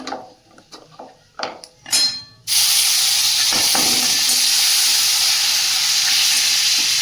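Ginger paste hits hot oil already holding dried red chillies, bay leaves and whole cumin, bursting into a loud, steady sizzle after a few clinks of utensils, and it stays strong and even to the end.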